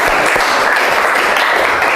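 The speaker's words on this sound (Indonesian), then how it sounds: "Oke, tepuk tangan," Classroom of students applauding at a teacher's request during a lesson, a steady dense patter of many hands clapping at once, close and fairly loud throughout.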